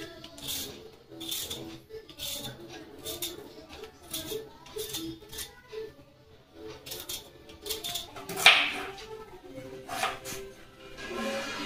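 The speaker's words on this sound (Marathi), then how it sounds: "आता टोमॅटो कट करणार आहे" A knife chops tomatoes on a cutting board in a home kitchen, producing a series of quick, irregular taps that come in short bursts, fairly close but soft.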